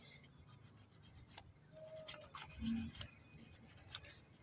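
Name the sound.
scrubbing a spin dryer part clean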